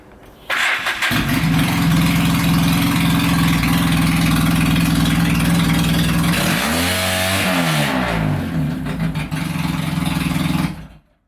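A Polaris Sportsman ATV with its exhaust stack knocked off fires up and runs very loud and close, a harsh steady roar with one rising-and-falling rev partway through before it cuts off.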